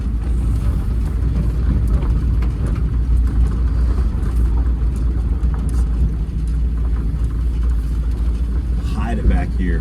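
A 1959 Buick is driven around the back, its engine and road noise forming a loud, steady low rumble with wind buffeting throughout.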